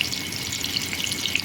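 Chopped tomato fries with black cumin seeds in hot oil, giving a brief, steady, close sizzle with a soft watery bubbling underneath and no talking.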